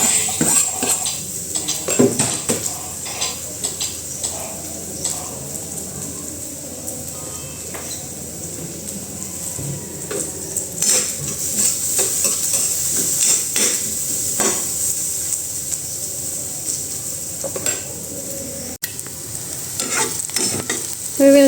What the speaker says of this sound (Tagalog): And now we can put already the garlic.